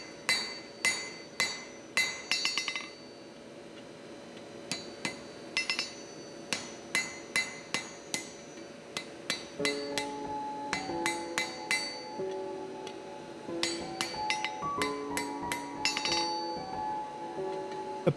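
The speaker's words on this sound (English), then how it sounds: "You see me isolating the actual box on the far side of the anvil." A blacksmith hammers hot steel on an anvil while forging box jaw tongs: bright ringing strikes in quick clusters and steady runs, close and clear, with no talking.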